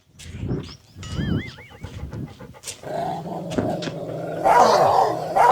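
A dog growls and pants in short bursts, with scuffling and a rising whine near the end; moderately loud and close.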